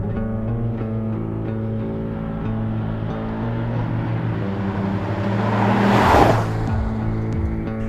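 A 2008 Dodge Challenger SRT8 on a racetrack, its engine droning loud and steady with a low rumble, swelling into a brief louder surge and then easing back, with no talk.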